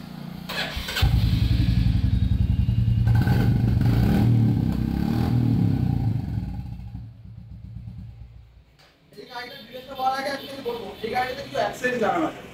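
A used motorcycle with about 10,000 km and an aftermarket silencer, at a secondhand showroom in Kolkata, starts up and runs loud and close with a clattering idle for several seconds, then fades as a person talks.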